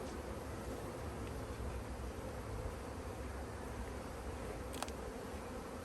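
Honeybees in an opened medium hive box make a dense, continuous buzzing hum, steady and faint, with a brief click partway through and no talking.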